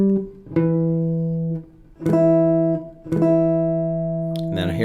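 Guitar playing a passage from a song: single plucked notes and octaves ringing clearly with long sustain, three main attacks spaced about a second apart, then a brief scrape at the end.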